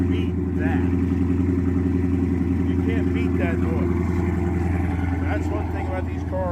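A Mopar V8 muscle car engine rumbles loudly and close with a deep, steady throb, while someone talks over it.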